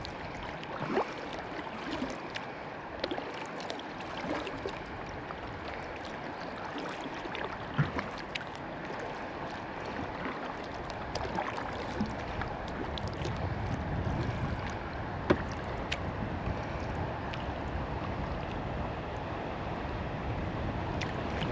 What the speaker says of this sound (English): not sure if you can hear the running water a little bit better now that I'm getting closer